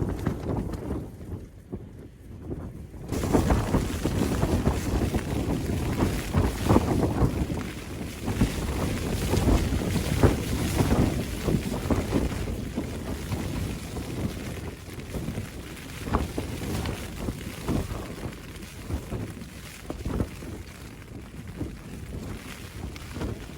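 Strong wind gusts batter a Terra Nova Starlite 2 tent at a wild camp, giving a continuous roaring, flapping rush that surges and eases throughout, close to the microphone.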